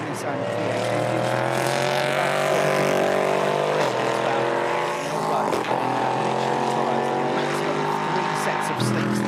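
LMP3 prototype race cars with naturally aspirated Nissan V8 engines run in qualifying at Oschersleben, a loud continuous engine drone with shifting pitch lines held steady across the whole stretch, under commentary.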